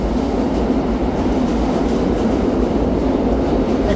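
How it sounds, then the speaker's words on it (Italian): A New York subway train rumbles past up close, a loud, steady low roar of rolling wheels and rail noise holding for the whole stretch with no speech. "scusate, c'è il rumore della metro"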